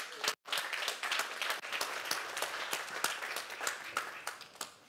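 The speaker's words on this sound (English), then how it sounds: "Give a ring round of applause." Audience applause at a tech conference, a dense burst of many hands clapping that carries on steadily and then thins out.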